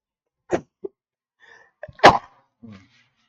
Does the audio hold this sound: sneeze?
yes